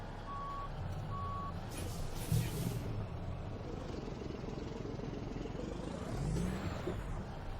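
A Peterbilt 377 truck hauling ice cream in American Truck Simulator sounds two high reversing beeps over a steady diesel rumble, followed by a brief hiss that fits an air brake and the engine idling on.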